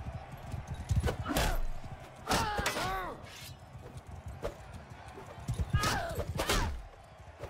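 Horse hooves clip-clop repeatedly in the medieval combat game Mount & Blade II: Bannerlord, with a couple of shrill whinnies rising over the galloping and fairly close mixed effects.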